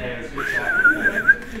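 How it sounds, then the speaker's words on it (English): A person whistles a short wavering melody over a steady background hum, the tune bending up and then wobbling for about a second. "I want a whistle."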